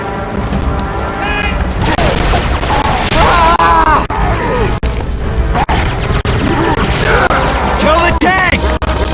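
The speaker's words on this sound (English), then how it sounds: "Pipe bomb." Pipe bomb blasts in Left 4 Dead 2 go off amid a Tank fight in rain, with heavy booms, crashes and gunfire piling up densely and loudly alongside groaning infected and shouted voices throughout.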